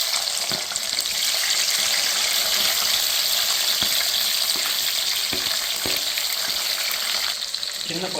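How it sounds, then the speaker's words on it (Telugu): Onions, green chillies and dry red chillies frying with mustard seeds in hot oil for Andhra-style mango dal, a steady dense sizzle throughout with a few soft clicks of stirring, no talk. "అవి లైట్ వేపుకున్న తర్వాత అప్పుడు మనం ఉల్లిపాయలు, పచ్చిమిర్చి, ఎండుమిరపకాయలు ఇవన్నీ యాడ్ చేద్దాం"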